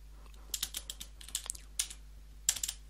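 Keys clatter on a computer keyboard as a command is typed, short quick bursts of crisp taps with brief pauses between them, close and fairly quiet over a faint low hum.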